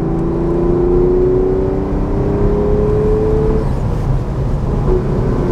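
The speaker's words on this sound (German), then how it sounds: "so richtig zum Leben erwecken tut er ab 3000 Umdrehungen. Da rauscht er richtig ab." A 1966 Porsche 911 SWB, original condition, revs while driving: the engine note climbs in a long rising whine, drops back as it shifts, then carries on a lower steady drone, loud and close from inside the car.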